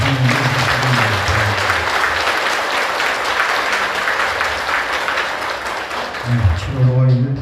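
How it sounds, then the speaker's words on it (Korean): A congregation applauds at a Buddhist dharma service, steady sustained clapping throughout, with a voice speaking over it at the start and again near the end. "큰 박수로 한번 부탁드립니다."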